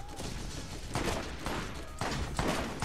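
Turret gunfire rattles in Borderlands as quick bursts of repeated shots, with several volleys clustered within a few seconds over a steady background din of combat.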